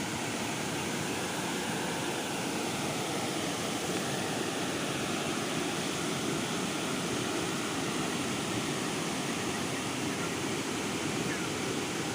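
Kaeng Khrom waterfall in Chumphon, Thailand, heard close at a campsite as a loud, steady, dense rush of falling water that never lets up.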